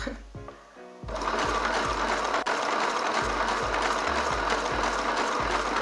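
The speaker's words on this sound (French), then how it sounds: "Fait que là, j'y vais avec une couture simple. Ma couture simple, ça veut dire que c'est une couture droite." A sewing machine runs a simple straight seam to take in oversized clothing. After a short start-up clatter it settles into a loud, continuous rhythmic whirring with regular mechanical ticks.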